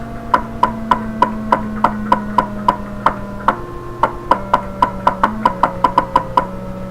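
A steady run of short electronic beeps from an Atari computer, one per key press, clicking along at an even pace over a low sustained hum, with occasional pitch changes.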